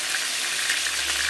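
Steady, hissing sizzle of chicken frying in a hot pan, continuous and close, with no talking.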